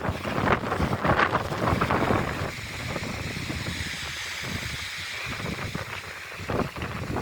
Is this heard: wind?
yes